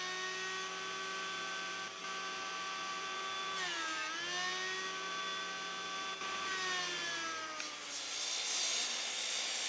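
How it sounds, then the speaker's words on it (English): A hand plane working across a piece of black wattle wood, a steady sustained hiss with a ringing, tonal edge. It holds at an even loudness close by, with slight pitch sweeps as the stroke shifts. "it just needs planing down a little"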